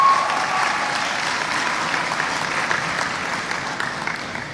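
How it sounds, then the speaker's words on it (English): Department chairs are honored at a university fall convocation with a big round of audience applause, a broad, sustained wash of many hands clapping that fades slightly toward the end. "Please give them a big round of applause."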